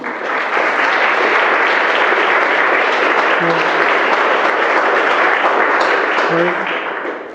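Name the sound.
wedding guests applauding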